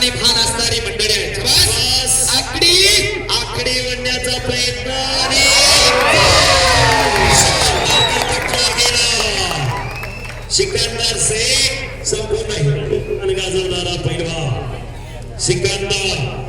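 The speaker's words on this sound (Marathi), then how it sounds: "त्यांच्यासाठी जरा जोरदार टाळ्या" Crowd at a village wrestling ground in Pune roars, cheers and whoops amid applause, a loud sustained swell of voices and shouts under a speaker talking over a loudspeaker.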